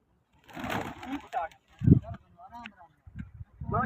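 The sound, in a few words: pigeons cooing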